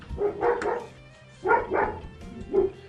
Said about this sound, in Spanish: Ahí empezó el perrito.